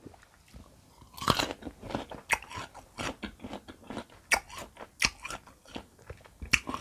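Crisp crunchy bites and wet chewing of sour marian plum dipped in chili sauce, close to the mic, with repeated sharp crunches in an irregular rhythm and no talking.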